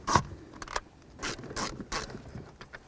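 Short close scrapes and ratchety clicks from a screwdriver backing out Phillips head screws on the shifter of a 2005-2016 Ford Mustang, several brief bursts in quick succession with no talking.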